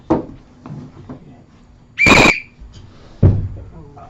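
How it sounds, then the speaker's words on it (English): A single short, shrill whistle blast sounds in a room among light shuffling and brief vocal sounds, with no clear talking. "when I blow the whistle, you're going to start with standing in your power"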